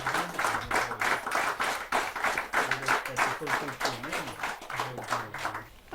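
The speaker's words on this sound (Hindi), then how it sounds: "आप सबकी जोरदार तालियां उन्हें बुलाएंगी" A crowd at an outdoor Hindi poetry gathering claps for a poet arriving on stage, a steady rhythmic applause with a faint voice or music running underneath.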